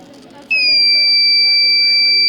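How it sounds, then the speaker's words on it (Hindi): A student-built fire alarm at a school science exhibition in Jhunjhunu switches on with a loud, steady, high electronic tone that holds unbroken after a brief quiet start, over a murmur of background chatter. "जब हमारे घर में आग लग जाती है तब अलार्म बजना शुरू हो जाता है"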